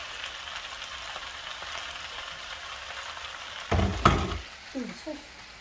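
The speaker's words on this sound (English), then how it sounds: "Give it a sort of a little stir, make sure we're all okay." Drunken noodles and sauce stirred in a frying pan: a steady low sizzle, then a sudden loud burst of frying as the noodles are turned, followed by a few scraping strokes.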